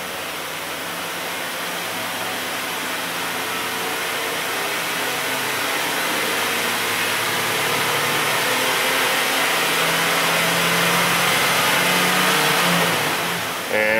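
A Chevrolet Silverado truck engine that is running rich is revved from idle, its loud, close roar climbing and holding at higher RPM before easing off at the end.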